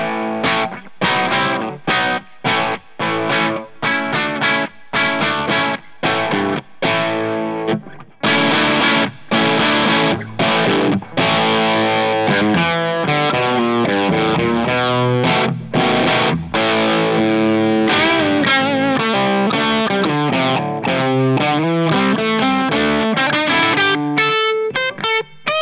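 Electric guitar on the bridge pickup, played with no pedals straight into a distorted amp, chugging tight palm-muted rhythmic stabs and then a sustained, gritty riff of chords and single notes, loud and continuous with no talking.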